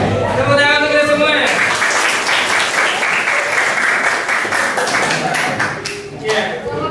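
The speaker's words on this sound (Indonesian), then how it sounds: "tepuk tangan untuk kita semua" A group in a school orientation session bursts into loud clapping after a voice speaks, the applause running dense and near for several seconds before thinning out toward the end.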